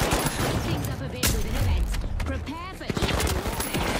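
Gunfire in the video game The Finals comes as dense bursts of rapid shots and booms amid game effects, with a player's voice speaking over the action.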